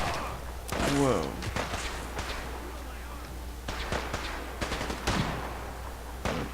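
Scattered gunshots and thumping impacts from a Fallout 4 firefight, several sharp cracks spread irregularly across a few seconds at moderate distance, with a voice exclaiming briefly over the shooting.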